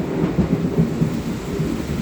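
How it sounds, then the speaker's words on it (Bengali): Deep rolling thunder rumbles steadily beneath heavy afternoon rain, a continuous low roar with no voices. "বজ্রপাত হচ্ছে।"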